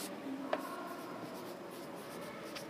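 Marker or chalk writing on a board during a math lesson, a faint, steady scratching with one brief tap, quiet and close with no talking.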